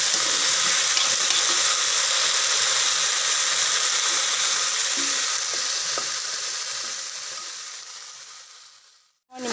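Chopped fiddlehead fern (dhekia) stir-frying with salt and turmeric in a pan, a continuous loud sizzle with occasional stirring scrapes, fading gently before cutting off at the end.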